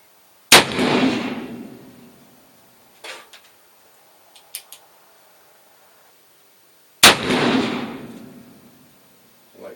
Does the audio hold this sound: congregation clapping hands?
no